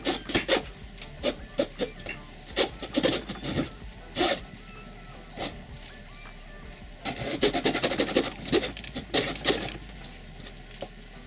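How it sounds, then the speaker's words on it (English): A hacksaw cutting a tunnel through wood for a console frame, irregular bursts of rasping strokes, some quick and clustered, others spaced apart, close and moderately loud. "cut a tunnel out with a hacksaw for the wires to pass"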